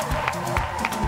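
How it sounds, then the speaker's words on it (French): Studio audience applauding and cheering for a female guest on a French-language talk show, a steady wash of clapping with crowd noise throughout. "On va applaudir très fort sous Roland."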